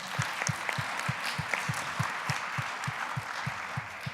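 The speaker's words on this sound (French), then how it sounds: "merci de l'applaudir" A small audience at a regional inclusion forum in Rhône-Alpes applauds Stéphane Irigoyen, an APF administrator from the Basque Country, with soft, steady clapping and a distinct rhythmic beat running through it.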